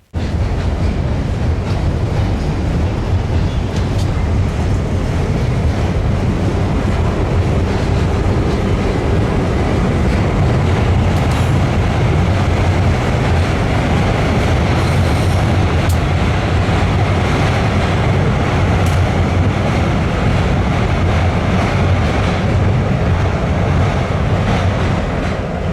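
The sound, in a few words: two freight trains passing at Pine Junction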